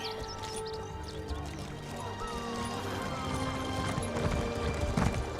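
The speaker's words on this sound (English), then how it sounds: "Running on top of your horse while your horse is running." Hooves clip-clop in a rapid, steady gallop as a horse runs in Elder Scrolls Online, close and moderately loud, with a faint whinny and game sounds layered around it.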